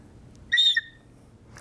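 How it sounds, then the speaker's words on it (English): A replica bone whistle gives one short, clear, high whistle blast lasting about a quarter second, close and loud over quiet room noise. "I brought my bone whistle."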